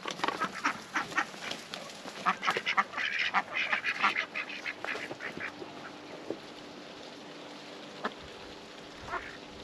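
Ducks in a backyard poultry yard quack and honk in a busy cluster of calls, loud and close at first, then thinning to occasional single quacks over a quiet outdoor background.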